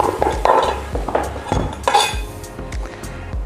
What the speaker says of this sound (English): And then we have our pumpkin, and I'm going to cut mine in half